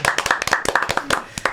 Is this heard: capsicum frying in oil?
no